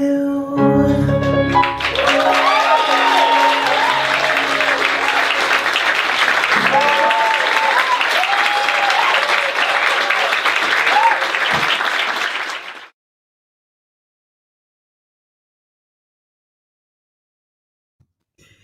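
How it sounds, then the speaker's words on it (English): A cabaret audience at a holiday salon breaks into loud, sustained applause after a song, with cheers and voices mixed into the clapping for about twelve seconds before it cuts to silence. "we add to that thunderous applause"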